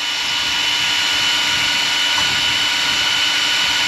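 An ARRMA Outcast 8S RC car, just rebuilt, runs its motor at full throttle: a loud, continuous high-pitched electric whine with a steady tone and no talking.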